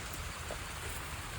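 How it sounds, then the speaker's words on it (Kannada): Heavy rain falls on a garden in a steady, even hiss of drops, moderately faint and unbroken, with no voices. "ಫುಲ್ ಬಂತು ಮಳೆ"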